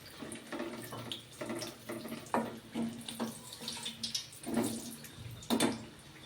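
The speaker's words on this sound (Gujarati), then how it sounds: "થોડુંક પાણી એડ કરશું." Water is added to a pan of noodle sauce with soy sauce, Schezwan chutney and Kashmiri chilli, giving soft, repeated splashing pours at low volume with no voices.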